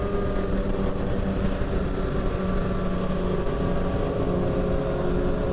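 A steady, dense drone of several four-cylinder motorcycles, among them a Kawasaki ZX6, running together at a meet in Indaiatuba, holding an even loud rumble throughout with no clear revving peaks.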